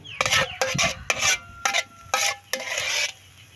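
Pansit noodles being stirred in a cooking pan, giving scraping, rasping strokes in about seven separate bursts with brief pauses between them. The strokes are close and fairly loud, with no talk.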